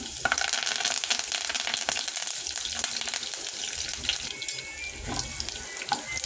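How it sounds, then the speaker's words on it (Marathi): Crushed garlic cloves and curry leaves crackle in hot oil, a busy, close sizzle sprinkled with sharp pops and spits that goes on throughout. "कढीपत्ता चांगला तडकला"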